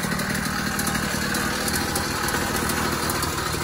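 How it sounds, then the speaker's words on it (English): An 80cc engine on a 26-inch Cranbrook motorized bicycle idles steadily and loudly up close, with a continuous buzzing, slightly rattling putter that runs without a break. "Fired right up within a couple bike lengths and been running fine ever since."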